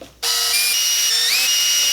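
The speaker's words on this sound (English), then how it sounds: "I'll take them off and pre-drill." A power drill whirs up suddenly and runs at a steady high pitch for a couple of seconds, pre-drilling holes for tuners on a ukulele kit, close and loud, with a slight pitch shift near the end.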